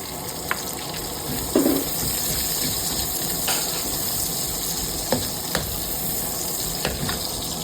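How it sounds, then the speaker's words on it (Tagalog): Garlic sautéing in a pan for adobo, a steady close sizzle and frying crackle with occasional light clinks of stirring, no voices. "Magigisa na tayo ng bawang."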